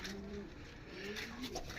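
Pigeon cooing in a backyard breeder loft, soft low coos repeating several times at moderate distance over a faint ambient hiss.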